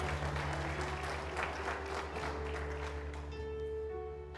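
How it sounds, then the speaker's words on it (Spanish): A church congregation applauds the name of the Lord, a soft, even patter of clapping under a steady low hum, with sustained tones entering near the end. "¿Cuántos aplauden el nombre del Señor?"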